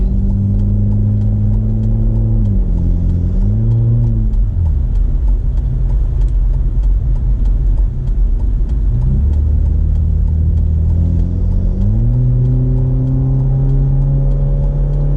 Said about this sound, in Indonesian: Suara knalpotnya itu loh menderu.